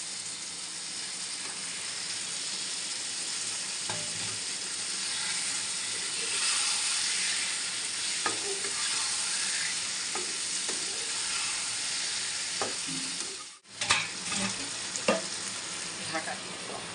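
Lote fish sizzles loudly in a hot spiced onion-tomato masala, a dense continuous frying hiss with occasional stirring clicks, cutting off abruptly near the end before the sizzle resumes, close up with no talk.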